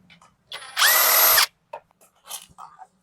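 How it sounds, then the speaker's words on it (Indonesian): Power tool whirs in one sustained burst of about a second, loosening the air filter box bolts on a Vespa LX Facelift scooter, with brief clicks and small handling noises before and after. "Oke, kita buka bautnya dulu, baut box filter."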